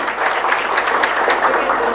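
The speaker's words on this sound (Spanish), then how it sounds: "A la cuenta, otro aplauso para ella." Another round of clapping from the congregation at Mass in the Virgen del Carmen chapel, Ypané, honoring a great-grandmother: a brief, even patter of many hands at fair loudness with no pause.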